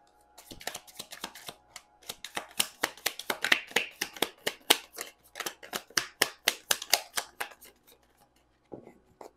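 Tarot cards are shuffled and drawn, a rapid run of sharp, crisp card snaps and flicks in an irregular rhythm, close and fairly loud, tapering off near the end with a final brief rustle and no talking.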